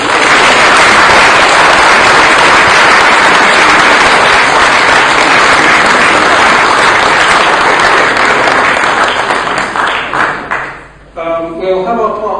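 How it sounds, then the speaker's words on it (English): A lecture audience at a humanist society talk on scepticism claps loudly and steadily for about ten seconds, the applause thinning out before a voice starts speaking. "please give another big round of applause"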